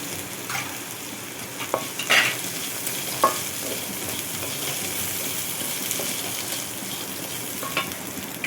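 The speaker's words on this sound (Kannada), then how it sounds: "ಲೋ ಫ್ಲೇಮಲ್ಲಿ ಹುರಿದ್ರೆ ತುಂಬ ಟೇಸ್ಟ್ ಬರ್ತದೆ, ಮಸಾಲದ ಘಮ ಅಂತ ಹೊಡಿತದೆ ನೋಡಿ." Cumin and spices fry in a pan over a low flame, a steady close sizzle broken by a few clinks and scrapes of stirring.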